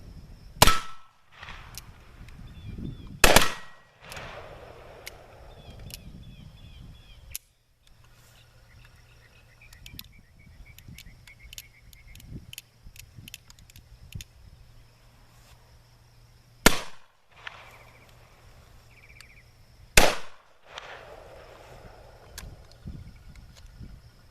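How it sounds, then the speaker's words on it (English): Civil War era percussion pistols and guns fire outdoors, four loud sharp cracks spaced several seconds apart, each followed by a short echoing tail, with quieter handling noise and faint insect chirps between shots. "So now, Bryce, are you shooting that shotgun"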